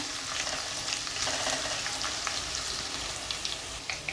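Finely chopped ginger sautés in a pan for vegetable fried rice, producing a dense, steady crackling sizzle close by with faint stirring sounds and no talk.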